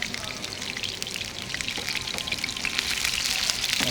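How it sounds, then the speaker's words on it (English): A thick fish fillet sizzling in a frying pan, a continuous crackling hiss with scattered pops that swells slightly louder toward the end; no voices heard. "All right, beautifully sizzling."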